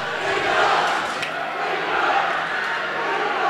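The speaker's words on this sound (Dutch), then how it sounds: "Imran met de strijdkreten van het publiek." Crowd at a kickboxing bout roars battle cries in a steady, dense wall of voices that swells slightly early on and keeps up throughout.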